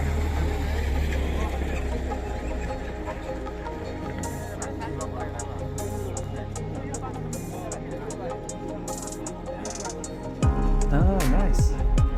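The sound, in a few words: motorbike engine running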